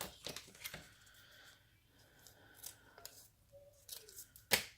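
Scissors snip through a folded paper accordion strip in a few crisp, close cuts with light paper rustling between them, quiet and without speech.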